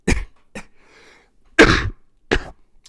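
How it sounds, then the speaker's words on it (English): A series of short, sharp coughs and throat-clearing bursts from a person indoors, four or five separate hacks spaced irregularly with near silence between them, close and loud. "Whenever the seasons change, I sometimes get a cough going on."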